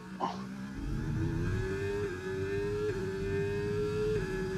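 A race car engine in a video game revs and holds a high, steady whine, pitch climbing gradually with small dips at gear changes, loud and continuous.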